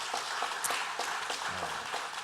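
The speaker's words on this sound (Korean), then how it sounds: "우리 박수로 환영 한번 하도록 하겠습니다" Church congregation at a Sunday morning service clapping to welcome a newly registered member, a dense, even round of applause with a brief low voice or tone near the end.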